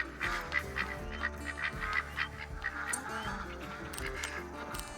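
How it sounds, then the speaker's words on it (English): A flock of ducks quacks loudly and persistently outdoors at night during a raccoon hunt, overlapping harsh calls filling the scene with no talk. "right now these ducks are just obnoxiously loud"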